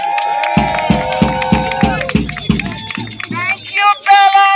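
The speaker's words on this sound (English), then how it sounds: "Give her a round of applause again." Crowd at an outdoor climate rally at 320 Greenwich Street claps and cheers in a run of sharp rhythmic bursts beneath a speaker's amplified voice, then fades as talk takes over.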